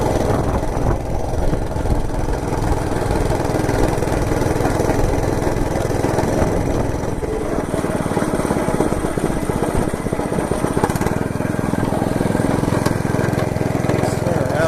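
A Monter Moto MMB80 gas minibike engine drones steadily and close throughout a ride, a continuous rough mid-pitched running note with slight wavering in load.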